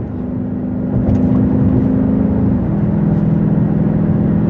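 A 2021 BMW X6 M50i engine pulls hard under acceleration, a steady loud drone from inside the cabin with a smooth gear shift midway that drops the engine note, no talk.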